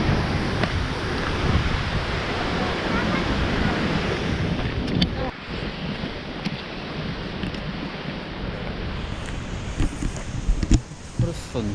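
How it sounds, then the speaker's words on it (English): Strong wind on a hot volcano summit buffets the microphone in heavy, rumbling gusts that ease after a few seconds and then flare again, with a few faint voices in the background. "And also so windy."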